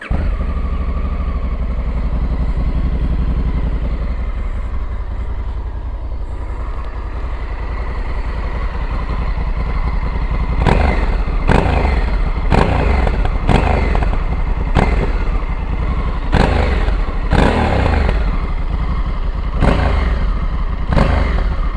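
A 2020 Honda Africa Twin Adventure Sports CRF1100 motorcycle engine starts and idles steadily and loudly, then gets several quick throttle blips to about 4,000 RPM that rise and fall in a rhythmic series. No voices.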